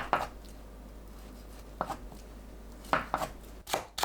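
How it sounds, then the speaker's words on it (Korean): A knife cuts pan-grilled tofu into 1 cm pieces on a board, making sharp, separate chops close by. Single strokes come early, then two quick pairs and a final louder cluster, with a low hum underneath and no talk. "구운 두부를 1cm 간격으로 썰어주세요."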